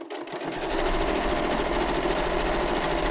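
Sewing machine stitching two pieces of fabric together along the foot's edge for zip binding; after a brief quiet start the motor picks up into a steady, loud, fast rhythmic hum and rattle that continues unbroken without speech.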